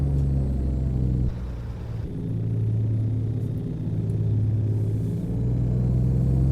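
Kenworth T660 truck engine in American Truck Simulator, a deep steady diesel rumble with a low drone while driving smoothly, briefly dipping near the two-second mark and then holding even.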